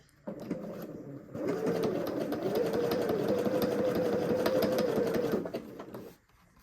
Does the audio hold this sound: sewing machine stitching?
yes